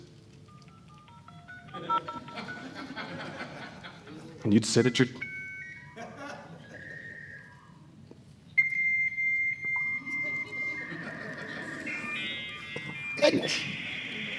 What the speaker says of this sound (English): Every time you wanted to connect to the World Wide Web, as it was affectionately known back in those days